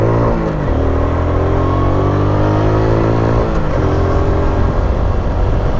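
Honda XRM 125 motorcycle engine revving hard and steady, a loud close drone that climbs and shifts pitch twice, with no talking.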